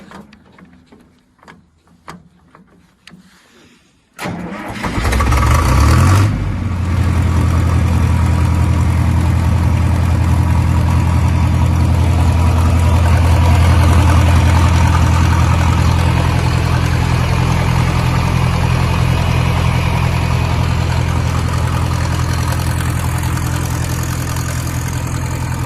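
A 1969 John Deere 3020 tractor's diesel engine: a few seconds of clunking and cranking, then it catches with a loud roar and settles into a steady, heavy, low idle that runs on for about twenty seconds.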